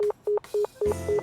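Touch-tone keypad dialing from the Nekopara video game, five evenly spaced beeps roughly a quarter second apart, clear and close, with a low hum joining under the last two.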